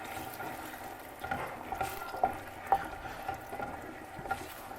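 Ground beef is stirred in a pot of tomato sauce set to boil, giving soft scraping taps and wet bubbling at a low, steady level.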